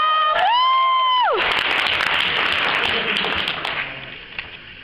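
A sung note ends, then an audience bursts into loud applause and cheering for the singer after a cover performance, a dense crowd roar that fades gradually toward the end.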